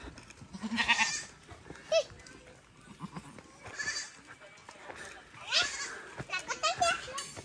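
Several goat bleats, close by, repeating at irregular intervals, with people and children talking softly in the background.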